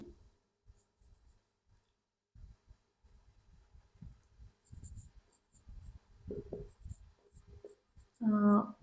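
Chalk or pen writing on a board or paper during a Bangla class lesson, heard as faint, intermittent scratchy strokes, with a voice briefly speaking toward the end.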